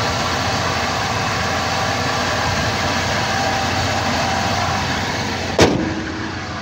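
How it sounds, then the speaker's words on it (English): A 2001 Dodge Ram 1500 pickup truck engine gives a steady, loud rumble, broken by one sharp burst near the end before it settles back to a running drone. "This is a Dodge Ram 1500. As you can see and hear,"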